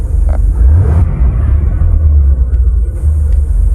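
Low, steady rumble of a 1973 Chevrolet Corvette Stingray coupe's engine while driving, continuous and close with slight swells in intensity, no talking.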